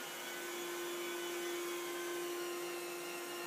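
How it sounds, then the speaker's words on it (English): A rotary carpet cleaning vacuum used for professional carpet restoration drones steadily and evenly throughout, with a constant pitched hum over a broad whir, close and alone. "The rotor vacuum."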